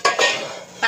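A lid is set onto a cooking pan during vegetable dinner preparation, giving a couple of close metallic clinks and clatters with a short scrape between, no voices present.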